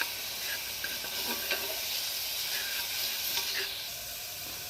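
Mutton curry with cumin and chili powder frying in a pan, a steady soft sizzle and hiss with occasional light stirring scrapes, faint and close.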